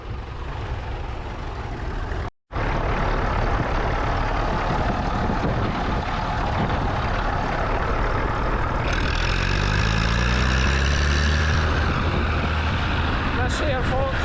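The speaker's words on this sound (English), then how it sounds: "you can't go wrong with the sound of the P6 engine" A 1949 Fordson Major tractor with a Perkins P6 diesel engine runs while being driven off-road at the Glenisla Show. Its loud, close, steady engine drone rises and shifts in pitch partway through, with a voice at times.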